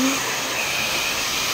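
A hair blower runs steadily throughout at close range, a continuous broadband whoosh with no pauses and no speech over it.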